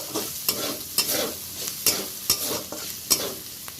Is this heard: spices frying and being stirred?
yes